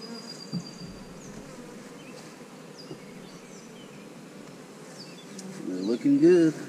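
Honey bee swarm at a hive, a continuous faint buzzing hum with scattered individual bees droning past close to the microphone, some louder passes near the end.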